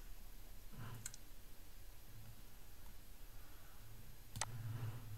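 Two crisp computer mouse clicks, spaced a few seconds apart, close and distinct against a quiet background hiss with no talking.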